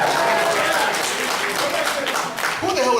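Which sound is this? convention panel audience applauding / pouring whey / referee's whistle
convention panel audience applauding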